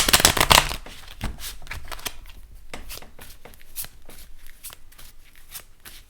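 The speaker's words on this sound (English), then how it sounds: "I just want to pull a couple of cards to hit up that Nine of Swords there" Tarot cards shuffled by hand during a reading, starting with a loud, dense riffle burst, then a run of softer, evenly spaced card flicks and slides, close and alone without talk.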